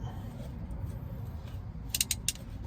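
A hand crimper clamps a connector onto 16 gauge car stereo wire, a low mechanical creak followed by a quick cluster of three or four sharp ratcheting clicks near the end. The sounds are fairly faint and close by.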